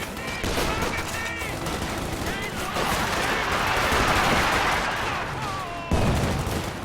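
Infantry gunfire in a strategy video game, dense crackling bursts of rifle and machine-gun fire running steadily throughout with sharp sustained volleys, overlaid by game unit voice callouts.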